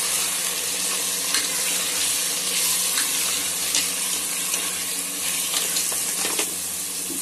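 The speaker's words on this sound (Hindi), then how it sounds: "ये देखिए प्याज हमारी फ्राई हो गई है, ज्यादा हमें गोल्डन नहीं करना है, तो इसमें हम कीमा डाल देंगे। अच्छे से मिला देते हैं।" Minced meat and onions sizzle steadily in a pan while being stirred, a continuous close frying hiss with small scraping clicks and no voices.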